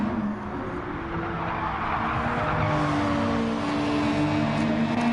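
Race cars lapping Watkins Glen in a PS4 racing game, a steady dense drone of several engines at high revs with tire noise, loud and continuous with no talk.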